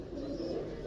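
A pigeon coos once in a low, soft, rounded call heard close by over a steady background, with no talk.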